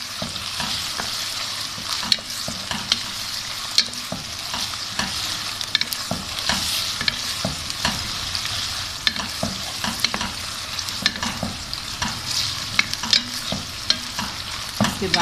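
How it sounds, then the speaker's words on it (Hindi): Chicken frying in a pan with ginger garlic paste, stirred continuously: a steady close sizzle with regular scraping and clinking of the spoon against the pan, no voices. "अब हम इसमें डाल देते हैं अदरक लहसुन का पेस्ट। इसको थोड़ा सा मिक्स कर लेते हैं।"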